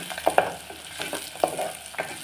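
Gentle sizzle of onion and coriander frying in a tempering, with intermittent scrapes and clinks of a spoon stirring in a pan, fairly quiet and close.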